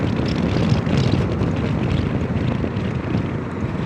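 A continuous roar of wind buffets a motorcycle helmet while riding a Zontes 368G, loud, dense and unbroken throughout, covering everything else.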